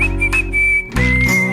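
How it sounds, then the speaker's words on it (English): A clear, loud whistled melody holding long sustained notes with a brief pitch change partway through, backed by music with a steady low accompaniment. "I'll do my best to whistle up a brand new melody."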